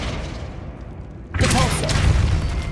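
Flipendo spell cast in the Hogwarts Legacy video game: a sudden bright, loud burst about halfway through, booming and crackling over a low rumble, following a quieter stretch of ambient game sound.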